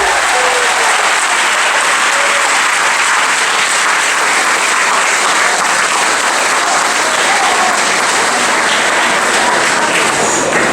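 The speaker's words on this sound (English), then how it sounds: "So one more applause for our class of 2022." Sustained, dense applause from a large crowd of families honoring the graduating class at an elementary school graduation ceremony, loud and steady throughout with no pauses.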